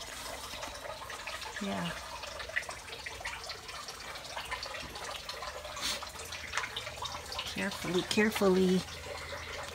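A sprayer mists garden plants and flowers to control mealybugs, giving a steady wet hiss with brief spurts while a person talks over it.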